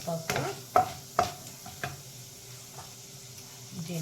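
Spices such as dried red chillies, chana dal, urad dal, cumin and mustard seeds crackle in hot tempering oil for a spinach and carrot chutney, with a few sharp pops and stirring scrapes over a soft, steady sizzle.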